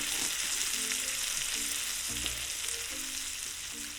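Seafood and pepper sizzle and fry in a pan while being stirred, with a steady hiss and intermittent scraping and clacking of the utensil against the pan, all close up and without talk.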